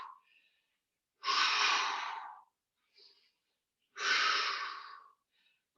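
Two long, forceful exhaled breaths during a rowing exercise, each lasting about a second and spaced a few seconds apart, close and clear, with faint quick inhales between.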